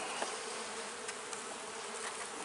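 Honey bees crawl on a honey frame lifted from a hive during a first spring inspection, a faint, continuous buzzing drone with no voices.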